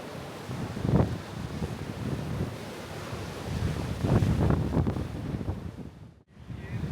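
Strong wind buffets the microphone on a crowded beach with warm water on the Kaliningrad coast, a steady broadband roar with louder gusts rising and falling, with no voices.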